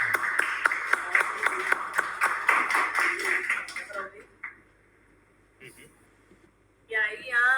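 An audience at a university lecture at UECE-Iguatu claps in a quick, even rhythm for about four seconds before it thins out and stops. Quiet voices follow and talking resumes at the end.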